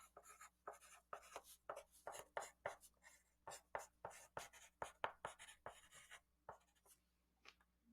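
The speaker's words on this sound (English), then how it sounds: "The next one that we're going to do is called cross hatching." A pencil cross hatches on paper in a quick series of short, close scratchy strokes, grouped in bursts with brief pauses and no talking.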